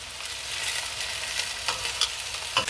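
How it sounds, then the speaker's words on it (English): Meatballs and Italian sausages browning in a frying pan, giving a continuous close sizzle with a few sharper pops and spatters toward the end. "The meatballs are browning up nicely, and the sausages are coming along."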